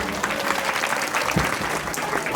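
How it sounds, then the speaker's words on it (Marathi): Audience at a Marathi religious discourse on Kashi breaking into a burst of clapping: dense, sustained applause from many hands filling the whole short stretch, fairly loud and close. "या सर्वांसाठी एकदा जोरदार टाळी झाली पाहिजे"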